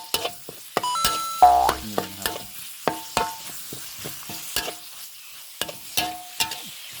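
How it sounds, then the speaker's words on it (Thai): Minced pork and onion are stir-fried in a pan, with a spatula scraping and clacking in a steady rhythm of sharp close strokes over a faint sizzle and no talk. "ก็จะนำลงมารวนให้เข้ากับหมูบดก่อนนะครับ"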